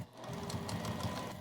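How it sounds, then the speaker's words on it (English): A home sewing machine runs along the edges of a thick, multi-layered quilted makeup bag, a rapid steady mechanical chatter of needle strokes, close and continuous for its short run. "We're going to take this to our sewing machine, and we're going to sew right along these edges"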